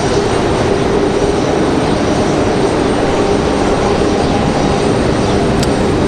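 Steady, loud engine roar from a Republic Airways jet at Raleigh-Durham airport, a continuous broadband rumble holding level throughout with no voices.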